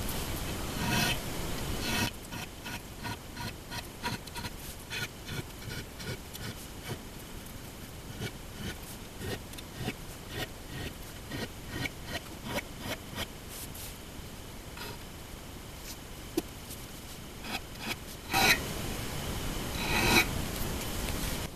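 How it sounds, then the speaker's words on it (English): A small fret end beveling file rasps along the sharp corners of a guitar's fret ends in steady, close back-and-forth strokes, with no one talking. "we take this little fret end beveling file and just ease the sharp corner on the ends of the frets"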